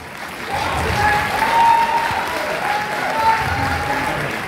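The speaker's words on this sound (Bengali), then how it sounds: "হাত তালি হোক।" An audience at an awards event breaks into steady applause, with many hands clapping together. The clapping swells and then holds at moderate loudness, and a few voices and whistle-like tones come through faintly.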